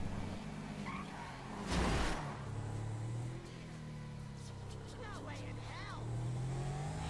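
Car driving in GTA Online: a steady engine drone with shifting pitch and a brief louder whoosh, running continuously beneath quiet talk.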